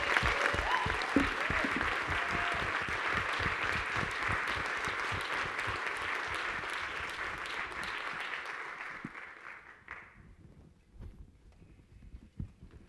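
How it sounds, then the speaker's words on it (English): A conference audience gives loud, sustained applause for about nine seconds, dense and even, before it tapers off into a quiet room with a few scattered claps. "Let's give Shannon a round of applause."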